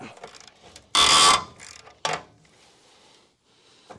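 A wrench working through rusty threads on a Crew Cab Charger under restoration, giving short grinding ratchet-like bursts, one loud and sustained, then a sharp second burst and quieter clicks.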